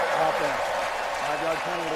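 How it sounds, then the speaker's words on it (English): Stadium crowd at an NFL game between the Oakland Raiders and Tennessee Titans, a dense, steady roar and cheering that fills the background under continuous play-by-play commentary. "Crowd was making a lot of noise, but still not that much noise"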